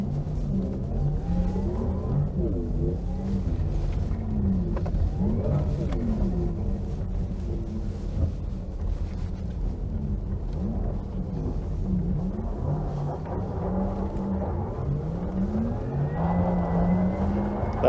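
A Porsche Taycan 4S electric car spins on ice in Sport Plus mode with stability control off and soft suspension, giving a steady, loud drone of motor whine and tyre noise that swells and shifts continuously, with no talk.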